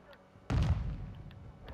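A grenade explodes in the Call of Duty video game with a single sudden booming blast, quiet before and a rumbling tail after, fairly distant and muffled.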